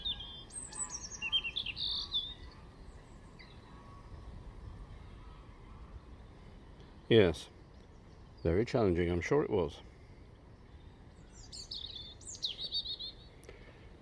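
Birds sing and chirp on a countryside walk, bright calls coming and going at moderate distance, with people talking briefly in the middle and quiet outdoor ambience between.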